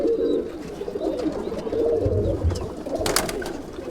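Madrasi pigeons in a crowded loft coo in a steady, layered chorus, several birds close to the listener and others farther back, with no voices.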